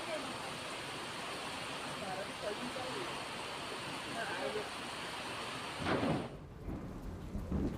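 Torrential rain pours down steadily in Gujarat, a dense hissing wash of drops, then a deep roll of thunder breaks in near the end.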